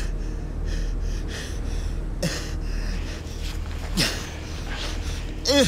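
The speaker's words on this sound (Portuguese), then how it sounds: "Eu já tô ficando ofegante e sem ar." Heavy, labored breathing and gasps from a man exhausted while running in freezing temperatures in China, repeated ragged breaths over steady wind-like background noise.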